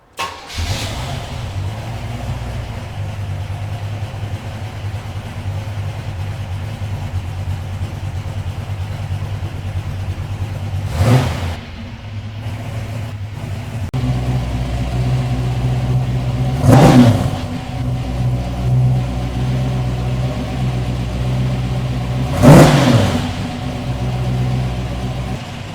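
A classic car with a new exhaust starts up and settles into a low idle, then revs three times, each sharp rise and fall spaced several seconds apart, loud and close.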